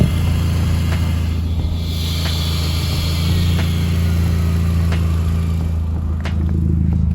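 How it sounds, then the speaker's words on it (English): A car engine idles with a steady low rumble while the secondary air injection pump runs alongside it, with a few faint clicks and thumps over the continuous drone and no speech. "That was secondary air kicking on."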